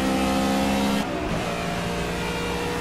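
Race car engines, including McLarens, on the Road America circuit in Project CARS GT Touring: a loud, steady mid-pitched engine drone with a brief dip in revs as a gear shifts, then continuing, close and alone.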